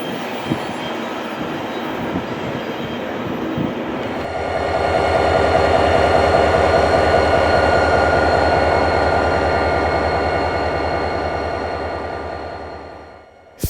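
A heavy BNSF freight train rumbles past close by in Red Oak, a loud continuous roar with clattering wheels that swells, holds, then slowly fades away.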